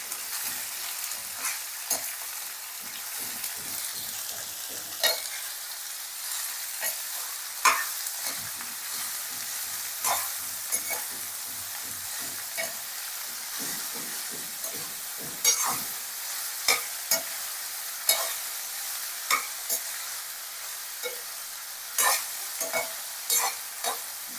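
Long strips of capsicum frying in oil in a pan, heard as a constant bright sizzle with repeated scraping stirs of a spatula, close and steady throughout.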